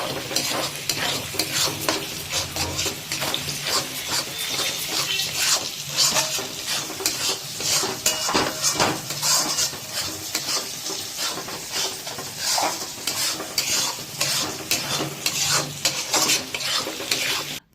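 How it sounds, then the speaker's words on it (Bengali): Chicken being stir-fried with chili, turmeric powder and salt: a spoon scrapes and stirs constantly against the pan over a sustained sizzle, close and busy, with occasional utensil clatter and no talking. "দিয়ে আবার এটাকে আমাদের ভালো করে কষে নিতে হবে।"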